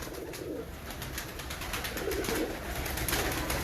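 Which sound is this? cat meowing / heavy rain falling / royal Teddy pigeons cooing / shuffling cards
royal Teddy pigeons cooing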